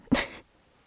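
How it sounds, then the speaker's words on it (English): One quick, close sneeze, a short sharp burst that fades fast into quiet. "I'm going to sneeze."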